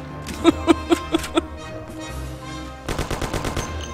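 Thompson submachine gun fire in the video game Mafia: two loud, close bursts of rapid automatic shots, the first a clean string of about six sharp cracks, then a quieter gap and a denser rattling volley.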